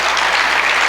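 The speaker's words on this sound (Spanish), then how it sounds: "Dale un aplauso al Señor." A brief burst of full, dense applause from a church congregation, loud and close, filling the short moment without any speech.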